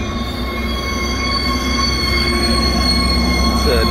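Steel train wheels squeal steadily on the rails as a North County Transit District Coaster commuter train, hauled by a Siemens Charger SC44 locomotive, rolls through Solana Beach station in California, loud and close with a continuous grinding rumble underneath.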